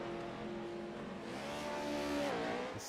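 A racing truck's engine revs hard during a feature event on a dirt track with jumps. The loud, sustained engine tone climbs in pitch and then dips, with faint tire noise.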